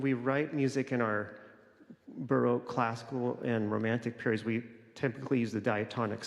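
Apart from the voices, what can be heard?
No everyday noise stands out behind the speech.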